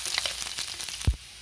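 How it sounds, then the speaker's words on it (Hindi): Cumin and garlic hit hot oil in a home kitchen pan, giving a close, steady crackling sizzle with a brief thump near the end. "ऑयल गर्म हो चुका है, इसमें जीरा डालूंगी, लहसुन,"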